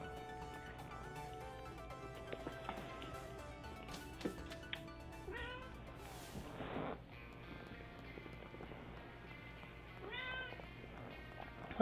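A pet cat meows faintly a few times in a quiet indoor room during a Pokémon game session, with the short cries rising over soft game music in the background.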